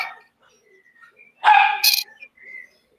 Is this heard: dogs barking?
yes